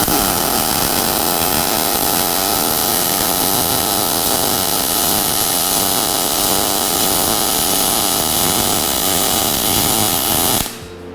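Close, loud and continuous buzzing crackle of welding on a camper build, which keeps up without a break and then stops abruptly near the end.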